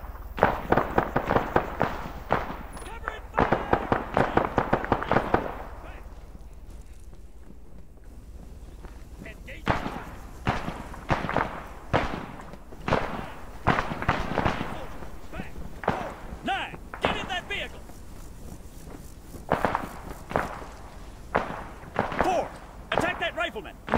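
Gunfire in the military game Arma during a Chernarus Defense Forces combat operation: bursts of sharp rifle shots, some rapid and clustered, others scattered, with a quieter lull midway and voices talking over the fire.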